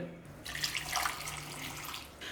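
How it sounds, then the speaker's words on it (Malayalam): Water poured into a cooking pot, about four cups, while making a pumpkin and bean curry; a steady splashing rush starts after a short pause and runs fairly loud and close for about two seconds. "ഞാനിപ്പോൾ ഇതിലേക്കൊരു 4 കപ്പ് വെള്ളമാണ് ഒഴിച്ചു കൊടുക്കണത്"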